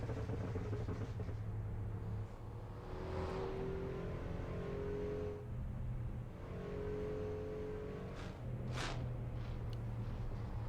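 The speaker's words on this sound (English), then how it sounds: "That car made such a weird sound when I was driving by it." Cars in the Assetto Corsa racing game's city streets, with a steady engine drone and a passing car whose pitch rises and falls midway, plus a later engine whine, all without speech.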